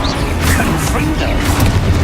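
Confringo fire spell bursting in Hogwarts Legacy, a dense, loud crackling blast of noise that fills the whole moment with rumbling impact.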